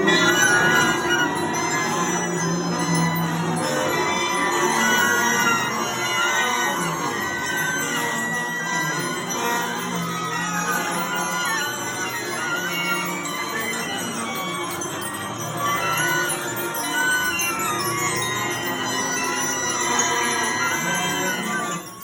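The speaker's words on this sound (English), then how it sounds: "produce the first sound on their instruments" Beginner band students play their instruments together for the first time, making a dense, chaotic mix of wavering, uneven tones and squeaks that runs continuously and loudly throughout.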